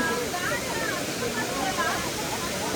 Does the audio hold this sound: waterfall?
yes